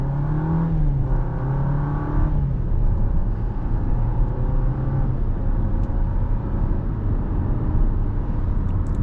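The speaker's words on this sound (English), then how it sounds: "Let's go ahead and give it some gas again." A 2024 Jeep Compass Limited accelerates from inside the cabin, engine note climbing through a gear change before settling into a steady, smooth cruising drone with road noise, moderately loud and continuous.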